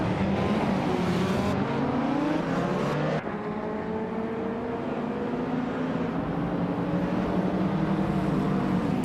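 Race cars roaring together at the start of a video game race, engines revving in a loud, sustained, layered drone with a sudden shift partway as the pack pulls away; no talking.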